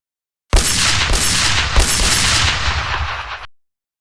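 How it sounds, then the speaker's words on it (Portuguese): Several gunshots from a man firing a few paces from a house window, heard as a dense, loud, continuous burst of cracks and booms lasting about three seconds with no talking. "a poucos passos da janela, descarrega alguns tiros"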